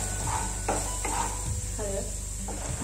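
Garlic, chili and asafoetida tempering sautéed in a pan for a dosa potato filling, a steady sizzle with a spoon stirring and scraping in a few distinct strokes, close by.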